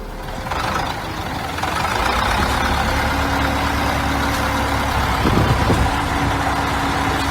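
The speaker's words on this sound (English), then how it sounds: "The Steyr 8000, 180 with 180 horsepower working at full capacity." A Steyr 8000 tractor with 180 horsepower works at full capacity, giving a steady, loud diesel drone with a deep rumble and a brief hiss of air partway through.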